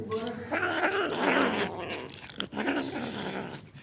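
Young kittens growl and hiss in a low, rough, continuous rumble at close range, with a short break partway through. Indoors at home, with faint voices in the background.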